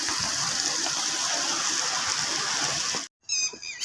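Heavy rain falls in a dense, steady hiss and patter outdoors during an Independence Day celebration, cutting off abruptly near the end before a brief bright tonal sound.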